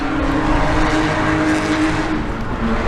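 A Mazda RX-8 race car runs on the Laguna Seca circuit, its engine roaring loud and steady at close range for the whole stretch, with a sustained buzzing drone and no talk.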